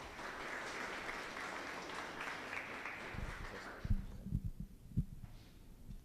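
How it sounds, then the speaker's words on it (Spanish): Applause from a conference audience welcoming a speaker at a developer event in Bogotá fills the first few seconds as a dense, moderate patter, then thins to a few scattered claps and low thumps as it dies away. "por favor recibámoslo con un fuerte aplauso"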